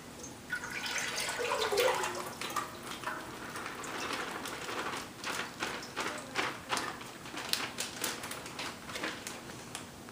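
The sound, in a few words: chicken stock being poured into a cooking pot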